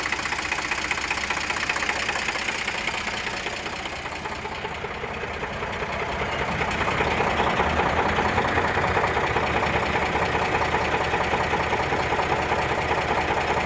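An Eicher 485 tractor engine idles nearby, a steady loud diesel chug with a constant knocking rhythm that swells slightly in the second half and continues without talk.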